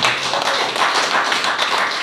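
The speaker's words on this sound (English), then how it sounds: "If you are clapping for Jesus, you will do better." Church congregation clapping along during a sermon, a dense, continuous wash of many hands patting fairly loudly with a loose rhythm, no voices on top.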